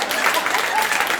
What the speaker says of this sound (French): On peut m'applaudir parce que je suis exigeante.